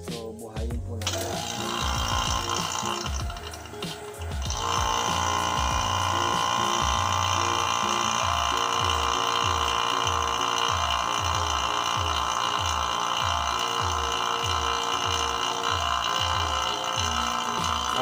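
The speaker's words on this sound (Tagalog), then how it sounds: "So ito po yung ating vacuum pump." A vacuum pump hooked to an R22 refrigerant system runs steadily with a rapid rhythmic chugging, continuous and close after a brief start-up clatter.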